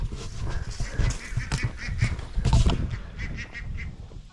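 Ducks and turkeys crowding feeding spots in summer heat, with repeated honking quacks and gobbling calls close by, overlapping in irregular bursts above shuffling and scratching.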